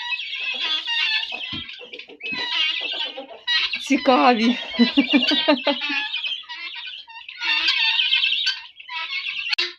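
Harsh, raucous calls from a flock of guinea fowl, loud and repeated, rising in bursts over someone talking throughout.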